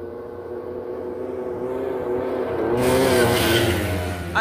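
A motorcycle revs hard on red sand dunes in Saudi Arabia while being jumped. The engine note climbs and grows louder into a rising, buzzing roar over about four seconds, with no talking.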